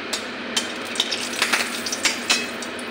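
Bay leaf and dried red chilli frying in hot oil in a kadai for vegetarian aloo dum, a steady close sizzle broken by a run of sharp spatula scrapes and taps against the pan.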